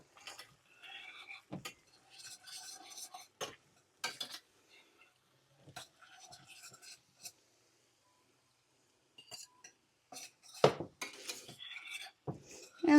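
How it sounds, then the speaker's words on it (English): A whisk scrapes and clicks in a pan as cornstarch slurry is worked into pepper steak sauce, with short, quiet bursts of rubbing strokes broken by pauses. "Just whisk it in as you go."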